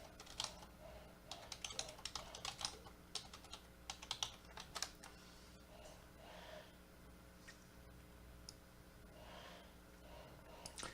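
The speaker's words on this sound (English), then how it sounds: "I'm just going to type this in here." Fingers tap out quick, uneven bursts of keystrokes on a computer keyboard close by, with a soft breath or two and a faint steady hum behind.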